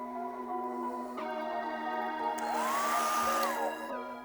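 A heat gun warms a sneaker sole to cure the glue during a restoration, producing a steady blowing hiss with a high tonal whine that briefly rises in pitch partway through.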